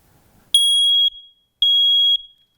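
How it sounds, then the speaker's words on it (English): Two loud, piercing electronic beeps from a smoke alarm, each about half a second long, separated by a short silence. "that's what a working smoke detector should sound like"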